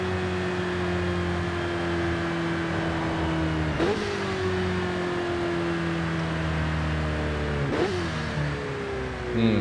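Ferrari 488 Challenge engine in Forza Horizon 5, heard from the driver's seat: a sustained high-revving drone with two sharp shift breaks, loud and continuous, with no speech over it.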